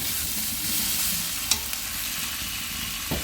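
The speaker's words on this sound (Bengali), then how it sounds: "চলো একটু চিংড়ি মাছগুলোকে ভালো করে নেড়ে চেড়ে নিই" Prawns stirred and fried in a pan with potato and onion masala, a loud steady sizzle throughout, broken by a couple of spatula scrapes, up close with no talking.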